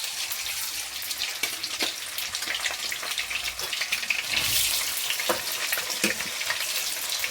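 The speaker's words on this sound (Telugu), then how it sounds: "ఇప్పుడు ఇందులో మనం పన్నీర్ వేయించుకుందామండి." Paneer pieces frying in oil, an up-close crackling sizzle that swells briefly louder midway, with occasional pops and no voices.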